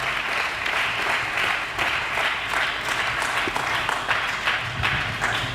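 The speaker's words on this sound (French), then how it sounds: "Est-ce que nous pouvons acclamer très fort pour le roi des rois?" A church congregation applauds loudly and steadily for several seconds, a dense, continuous clapping from a large crowd filling the space.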